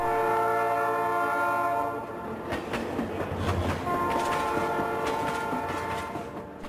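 Small railway train on the Coahuila–Zacatecas line: a loud sustained horn blast at first, then rumbling wheels and clacking rail joints as the cars roll past.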